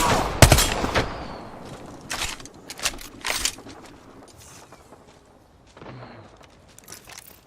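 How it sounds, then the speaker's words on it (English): Video game gunfire crackles in several short bursts, loudest near the start and fading into scattered shots and light clatter further on. "I am taking fire, friends."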